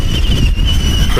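A Traxxas Stampede 4x4 RC car drifting on a track gives off a brief, loud whine of electric motor and tyres, with steady broadband noise and high tonal buzzing, and no voices.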